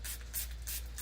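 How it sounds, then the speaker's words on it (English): A cleaning spray bottle mists the outside of a 2024 Bull Frog X7 hot tub in short hissing bursts, close and fairly soft, with no talking. "we're gonna spray this"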